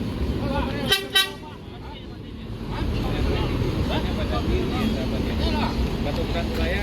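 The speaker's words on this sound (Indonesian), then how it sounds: "ini V77 mulai meninggalkan terminal ya" An NPM intercity bus pulls away from a bus terminal, its engine rumbling steadily as a pair of short horn toots sound near the start, with background terminal noise throughout.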